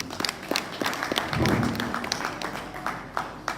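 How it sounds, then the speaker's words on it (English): Audience at a farm symposium gives a round of applause, a scattered, moderate patter of many hands clapping continuously, with a brief low murmur of voices in the middle. "Please give me a round of applause, please."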